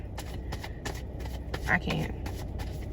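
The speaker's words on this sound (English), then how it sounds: "you guys are going to hear me shuffling in the back" Brisk riffling bursts of card shuffling repeat at a steady rhythm, close up, with a voice murmuring faintly underneath.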